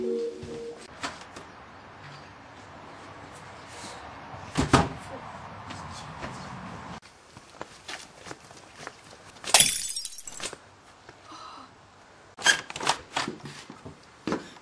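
A cheap drinking glass breaks with a sharp, loud shatter, followed by a second bright crash of glass a few seconds later, among scattered knocks and clatter in a quiet room.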